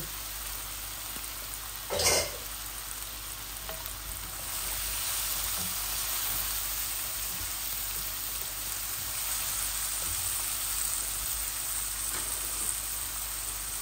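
Potatoes sizzle in hot oil in a pan while a Bangladeshi tilapia curry with potatoes and tomatoes is cooked. The frying hiss is steady and close, with a brief clatter near the start and a louder sizzle after it.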